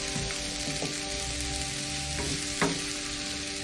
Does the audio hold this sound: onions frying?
yes